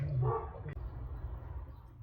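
A dog gives a short burst of barking near the start, then only low rumbling background noise remains.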